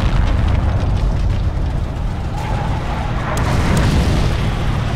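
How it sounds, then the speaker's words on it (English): Artillery explosions rumble through a Forgotten Hope 2 battle, a continuous heavy low-frequency roar of booms and blasts that stays loud and dense throughout, with no clear gaps between the impacts. "The artillery is killing us."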